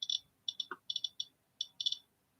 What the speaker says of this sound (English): every time there's a click, that's a radioactive particle passing through the sensor in here